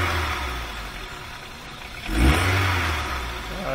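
A 2.0-litre VW A3 with a plugged exhaust idles roughly, then its engine swells into a brief, strained rev and falls back to a low rumble.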